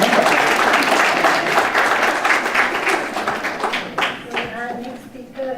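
Applause from an audience at a seminar session fills the room, loud at first and gradually thinning into scattered claps as a voice begins speaking over the fading end.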